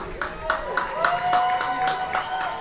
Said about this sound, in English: Next round of applause to both the Grafton and Milbury cheerleaders.